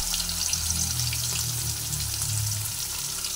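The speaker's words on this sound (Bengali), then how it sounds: "তেল বেশ গরম হয়ে গেছে। এক এক করে মাছগুলোকে তেলের মধ্যে দিয়ে ভেজে নিচ্ছি।" Pieces of fish, coated in salt and turmeric, fry in hot oil with a steady close hiss and crackle that continues throughout.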